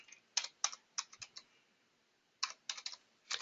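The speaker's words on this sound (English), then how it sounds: "type in the date that he's losing coverage" Close, crisp keystrokes on a computer keyboard as a date is entered, arriving in two quick bursts of clicks separated by a brief pause, fairly quiet, with no talk.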